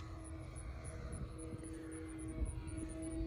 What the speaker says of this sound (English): Takes off without flaps, nice too.